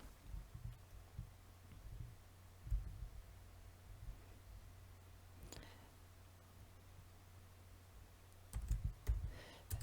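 Soft computer keyboard typing with scattered, irregular key clicks over a low steady hum, faint and close, with a brief busier flurry of clicks near the end and no talking.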